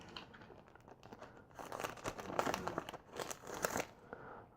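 Dust-removal stickers peel off and rustle from a tempered-glass screen protector kit's packaging, giving close, crinkly plastic and paper crackles that come in uneven bursts.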